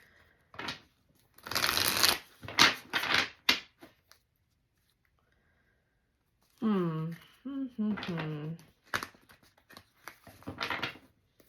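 A tarot card deck is shuffled in quick, crisp riffling bursts, close and clear, with a pause and then a person talking before more short shuffles.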